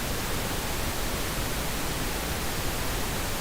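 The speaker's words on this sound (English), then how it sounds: "That's that pink noise." Steady broadband pink noise plays as a test signal, unbroken and even in level from start to finish.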